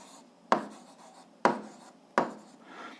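Three sharp, distinct strokes of writing on a surface as an algebra solution is worked out, each a brisk scratch followed by a short tail, spaced about a second apart in quiet.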